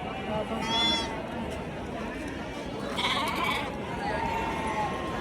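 Sheep and goats bleat a few times amid a busy, noisy crowd at a large livestock market in Chakan, Maharashtra, with people talking in the background.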